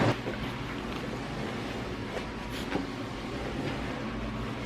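A household dishwasher runs in a home kitchen, giving a steady, loud churning rumble with sloshing water that continues unbroken throughout, with no voices over it.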